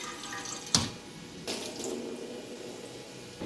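A cooking pot being rinsed and washed with water drawn from a cooler, with running water and sink splashing, a sharp clank near the start and further knocks of the pot at intervals, moderately close.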